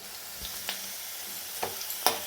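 Onions fry and brown in a pan while being stirred, making a steady soft sizzle broken by several sharp scraping clinks of the spoon, with no talking.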